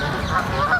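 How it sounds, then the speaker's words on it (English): Geese honk briefly from the water along a London walking route, a short burst of nasal calls heard outdoors at moderate distance. "and some geese out on the water"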